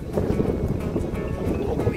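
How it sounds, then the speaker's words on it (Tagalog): Strong wind buffets the microphone in a steady low roar throughout, dense and close with no pauses. "Grabe, sobrang mahangin ngayon."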